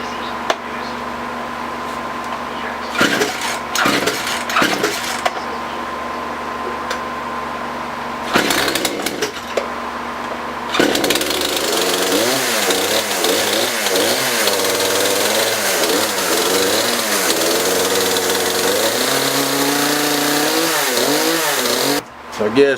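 A Poulan Pro PP4218A 42cc chainsaw, freshly serviced with a sharpened chain, is pull-started through several short sputters and then catches, running loud and close with rising and falling revs.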